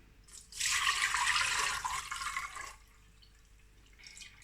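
Water drains from sieved vegan caviar pearls as a bright, steady patter that starts abruptly, runs loud for about two seconds, then thins to faint scattered drips in a quiet kitchen.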